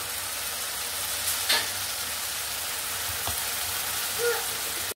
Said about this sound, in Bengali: এখন এটাকে সুন্দর করে আমি কষিয়ে নিব।